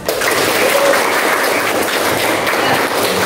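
Classroom applause during an Arabic grammar lesson, a dense, steady patter of many hands clapping together for the full stretch, loud and even with no voices on top.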